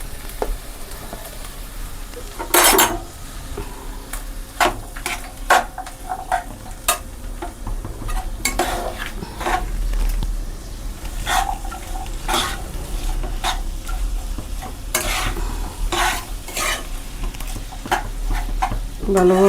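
Potatoes for matar paneer sauté in a pan with a continuous sizzle, broken by repeated sharp scrapes and clinks of a spoon stirring against the metal at an uneven pace.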